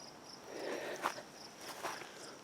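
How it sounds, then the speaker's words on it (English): Crickets chirping steadily in a garden, a faint high continuous trill with a few soft rustles and footsteps nearby. "Listen to the crickets."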